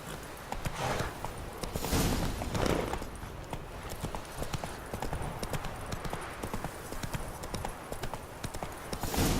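Roach, the horse from The Witcher 3, trots along with brisk, continuous hoofbeats clopping close by, layered over a busy background of game ambience.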